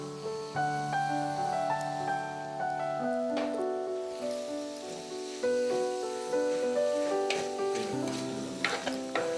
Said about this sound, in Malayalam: കുറച്ച് ഉപ്പ് കൂടെ ആഡ് ചെയ്ത് സോട്ട് ചെയ്യാം